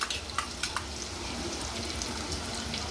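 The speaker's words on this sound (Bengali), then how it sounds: "পেঁয়াজটা একটু ভাজা ভাজা হোক" Onions frying in a pan give a low, steady sizzle, with a few sharp clicks and knocks of utensils near the start, heard close and fairly quiet without any talk.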